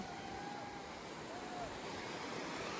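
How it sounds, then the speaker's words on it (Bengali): Sea waves at Digha beach roll in as a continuous, loud wash of surf filling the scene, with wind noise over the microphone and no clear breaks. "দেখো ঢেউ দেখো কি সুন্দর ঢেউ"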